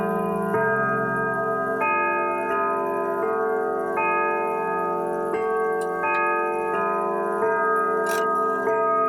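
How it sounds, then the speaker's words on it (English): A Howard Miller grandfather clock plays the Westminster chime, a slow sequence of loud, ringing bell tones that sustain and overlap as the familiar melody steps along, heard clearly on its own. "Westminster is the most popular chime, known for its melody used in Big Ben."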